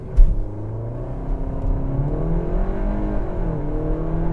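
A Seat Ateca 2.0 TSI with 190 hp launches hard under launch control, a sharp engine burst giving way to a sustained climbing drone as it accelerates, heard loud from inside the cabin.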